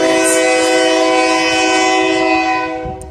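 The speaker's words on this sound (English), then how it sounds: "Shut up, you stupid train." A train rolls past close by with its new, loud horn blaring as one steady, harmonic blast that fills the whole clip and only begins to fade near the end, no talking over it.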